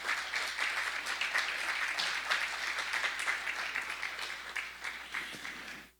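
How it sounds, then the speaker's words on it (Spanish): Dense, loud applause from a large church congregation fills the whole stretch, holding steady before tapering off at the very end. "Dele palmas fuertes al Señor"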